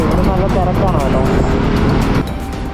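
Cars pass on a busy road between Ambur and Yelagiri, making a loud, close engine drone and tire rumble that eases near the end, with voices heard over the traffic.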